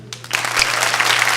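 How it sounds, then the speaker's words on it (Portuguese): A church congregation breaks into applause, the clapping swelling from a few scattered claps into steady, dense, fairly close clapping with a low electrical hum underneath. "Vamos aplaudir direito?"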